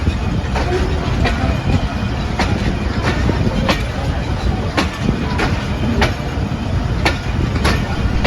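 Pakistani passenger train on the Lahore to Peshawar run, a steady loud rumble of carriages rolling along the rails with regular clicking wheel joints every half second or so, heard from inside the train.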